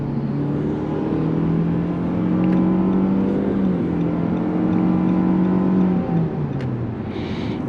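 A 2023 Nissan Qashqai accelerates to merge onto a highway, its engine droning loud and steady from inside the cabin, pitch climbing then easing as it shifts, with road roar beneath.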